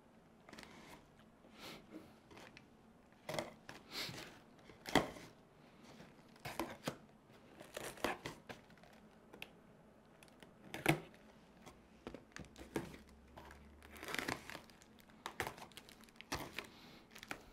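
Tape being peeled and ripped off a ProBoat 17-inch Lucas Oil RC boat box, a quiet series of irregular tearing and crinkling bursts close to the mic, with no talking.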